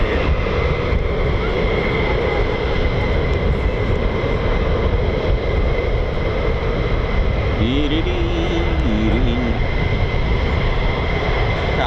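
Military fighter jets, F-15s or F-35s, roar on departure from RAF Lakenheath, a loud continuous rumbling engine drone that stays heavy throughout, with a tonal whine rising and dipping near the end.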